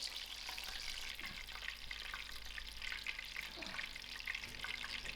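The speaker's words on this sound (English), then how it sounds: "Getting fried nice and lovely." Strips of chicken for homemade streetwise chow fry in hot oil, a soft, steady sizzle with faint crackles and the occasional light clink of stirring, quiet and close, with no talking.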